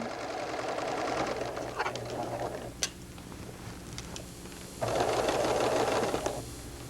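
A sewing machine stitches across a sweater's shoulder seam in two bursts of fast rhythmic whirring separated by a pause with a sharp click, close and fairly quiet.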